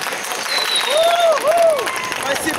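Street crowd on the Arbat applauding a performer, a thick rush of clapping and cheering with whoops and calls rising over it, loud and close.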